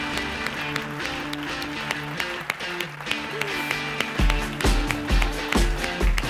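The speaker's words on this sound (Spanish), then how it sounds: "Quiero darle entonces la bienvenida a Guillermo con un fuertísimo, fuertísimo aplauso." Applause welcoming the speaker onto the stage at a corporate business talk, steady clapping from the audience over background music, with heavy rhythmic thumps joining toward the end.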